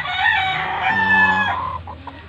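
Young stag roosters on a farm crow loudly with long harmonic calls, overlapping with nearby clucking, close and continuous with no talk.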